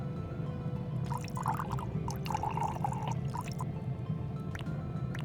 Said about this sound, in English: Pouring oil. Move the oil canister left and right and hold key to pour.